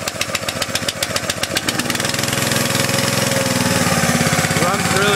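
Small gas engine with a pull rope and choke catching on a cold start, chugging unevenly at first, then settling into a steady, loud idle close by.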